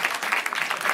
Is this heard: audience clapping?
yes